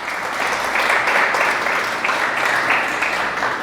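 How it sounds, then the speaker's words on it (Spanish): A church congregation applauding together, a dense, steady wash of clapping that holds evenly for several seconds without speech. "Dele otro aplauso a Dios por eso."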